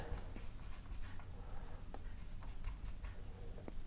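Pen writing out a journal entry narration on paper, faint scratchy strokes and light taps in short irregular bursts, close and quiet over a low background hum, no talking.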